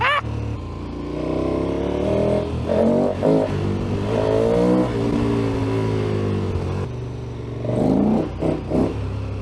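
Motorcycle engine held at a steady drone while riding over Hardknott Pass, with several surges of revving that rise and fall and a louder burst near the end, close and continuous throughout.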